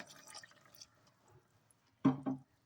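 A short splash of water poured into a pot of mushroom pulao, two quick bursts in an otherwise quiet kitchen.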